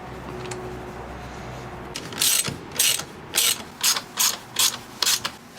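A hand ratchet clicks in short, sharp bursts while tightening the bolts on a kickstand for a 2014 Honda CRF450R dirt bike. Seven or eight loud, close bursts come at a regular rhythm after a quiet start.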